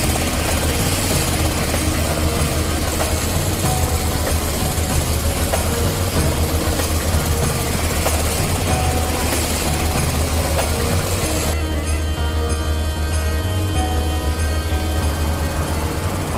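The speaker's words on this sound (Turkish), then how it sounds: "helikopter yanımızda." A civilian helicopter flying close alongside, its rotor and engine producing a loud, dense, continuous roar that fills the whole stretch without letup.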